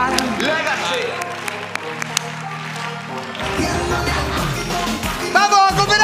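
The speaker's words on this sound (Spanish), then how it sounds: "¡Fuerte el aplauso!" Audience applause at the Teletón, a live televised charity telethon, with clapping spread across the crowd and a presenter's loud voice and music-like sounds mixed over it throughout.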